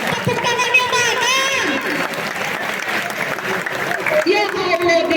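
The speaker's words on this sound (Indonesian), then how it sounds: "Tepuk tangannya mana?" An audience at an Islamic school anniversary closing event in Pekanbaru bursts into loud applause and cheering, with voices and chatter mixed through the clapping and a speaker's voice rising over it.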